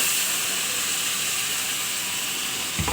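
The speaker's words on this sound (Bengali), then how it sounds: "কাঁচা টমেটো এবং পাকা টমেটো দিয়ে দিলাম।" Raw and ripe tomatoes go into a hot frying pan with Surma fish, giving a steady, loud, continuous sizzle and hiss throughout, with a brief clatter near the end.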